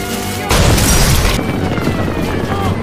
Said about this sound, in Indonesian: Dan di waktu yang sama, Fatso meledakkan bomnya.